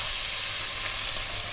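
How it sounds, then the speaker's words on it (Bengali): Small mouarala fish rubbed with salt and turmeric sizzle in hot mustard oil, a close, continuous frying hiss with a steady crackle that never lets up, and no one speaking. "প্রথমে মাছটা আমি ভেজে তুলে নেবো"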